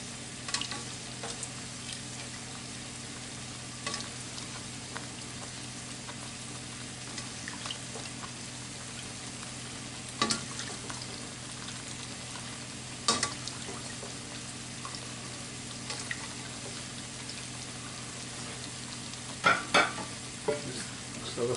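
Potatoes frying in a curry pan for a vegetable patia, stirred around: a continuous low sizzle with occasional scraping clicks and soft clatters from the pan, steady and moderately quiet throughout, with no talking.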